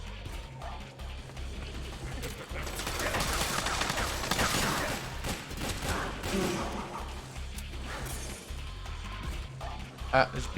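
Dense, continuous gunfire in Metal Gear Solid 4 builds into a loud, busy wash of shots and impacts, with a voice talking over parts of it.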